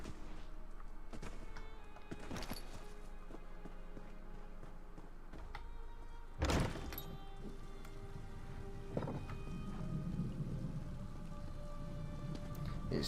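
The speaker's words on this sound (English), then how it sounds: "It's starting to rain." Rain falls in Elder Scrolls Online Morrowind as a steady hiss, with a sudden loud crack near the middle and a low rumbling swell toward the end.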